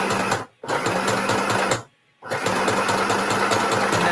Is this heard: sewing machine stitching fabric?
yes